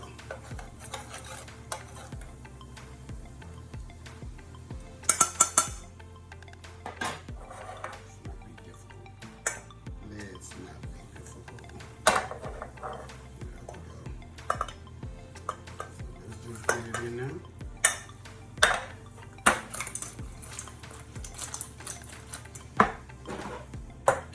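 Garlic Parmesan sauce goes onto crispy oven-baked chicken wings, with soft wet stirring and scattered clinks of a utensil against the dish. Sharper knocks break through now and then, and there is no talk.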